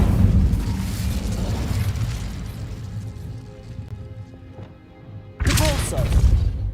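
Incendio fire spell cast in Hogwarts Legacy: a loud burst of flame at the start rumbles and fades over several seconds, then a second sharp fiery blast erupts near the end.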